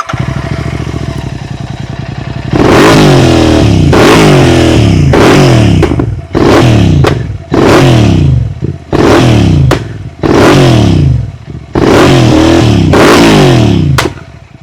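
A tuned GT motorcycle revs hard in a series of roughly eight loud bursts, each blip ending in crackling exhaust pops and blasts, separated by short gaps of idle, very close and powerful.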